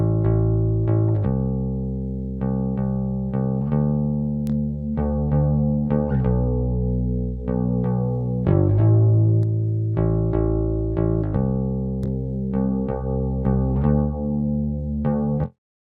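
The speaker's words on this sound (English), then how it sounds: "Let's start playing it without the effect engaged so you can just hear the raw bass guitar." A raw, unprocessed bass guitar plays a continuous melodic line of plucked notes, loud and dry, steady for the whole stretch with no talk.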